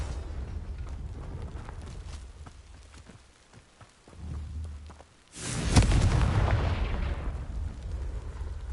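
Confringo blasting-spell explosions in the Hogwarts Legacy video game: a run of soft thuds and crackles, then one loud, booming burst that trails off into rumbling debris.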